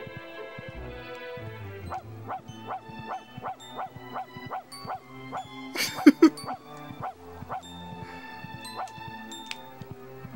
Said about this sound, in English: me just hitting the bark button over and over again